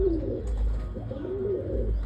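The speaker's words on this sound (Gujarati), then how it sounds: "બાકી આ છે આપણા કબૂતર ભાઈ" Pigeons kept by a fancier coo in low, rolling, throaty phrases that repeat close by over a low background hum, with no talking.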